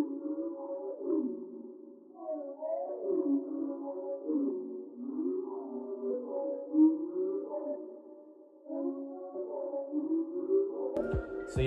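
Ambient music sample run through filter, harmonizer and reverb with the lows cut by EQ: dark, sustained low tones with slow gliding, whale-like swoops, steady throughout and ending in a brief crackly burst.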